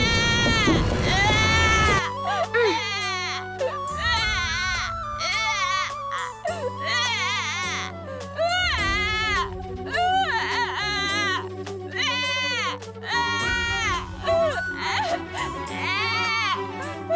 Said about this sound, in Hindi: हाँ, शिशु के रोने की ध्वनि।